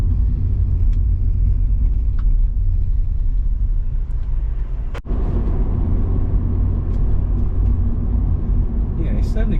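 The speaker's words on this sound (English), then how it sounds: "a bit of bumpiness from the back when we go over a few bumps like we're about to do now" Rover 200 BRM car driving over bumps, a steady loud low road rumble from the cabin with a sharp knock midway and mild thumps from the rear suspension.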